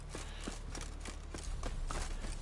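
Horse hooves clip-clop in The Witcher 3, a steady run of soft, fairly distant hoof strikes over a constant low background rumble.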